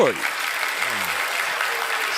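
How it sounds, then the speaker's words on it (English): An audience at a religious teaching gathering clapping briefly, a short burst of applause just after a spoken request. "can I get some claps?"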